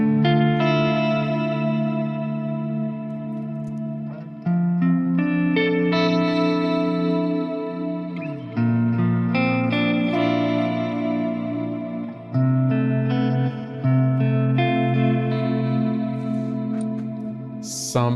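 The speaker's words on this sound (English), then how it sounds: "So maybe bring in some of this reverb thing." Ethereal, layered musical tones for a dreamy album track, drenched in reverb, chorus and echo, sustained chords shifting every few seconds with washy tails, no voices.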